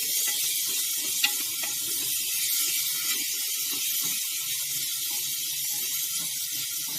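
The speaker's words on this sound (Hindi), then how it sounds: "सेक तेज कर दिया है हमने और भून रहे हैं इसको, प्याज को।" Onions being browned over raised heat in a pot while making mutton and chickpeas give off a steady, close hiss of sizzling oil with faint crackles throughout, and no voices.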